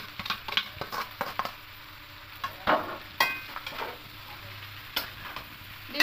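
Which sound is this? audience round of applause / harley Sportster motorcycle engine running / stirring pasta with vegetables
stirring pasta with vegetables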